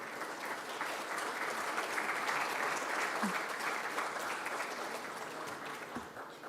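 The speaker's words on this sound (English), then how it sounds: "Please, a round of applause." Steady, full audience applause fills a nursing award ceremony hall, a dense, even wash of many hands clapping at once, holding strong throughout with no voices standing out.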